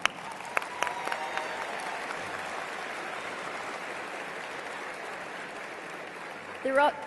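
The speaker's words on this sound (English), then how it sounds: "Let's give them another round of applause." Graduation ceremony crowd applauding, a steady, fairly distant wash of many hands clapping that holds evenly for several seconds before a voice cuts in at the end.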